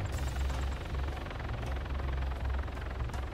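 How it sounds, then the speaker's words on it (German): A helicopter in the ArmA 3 video game flies nearby, giving a steady, loud rotor and engine drone with a low pulsing throb that holds constant throughout. "Da kommt schon wieder ein Heli."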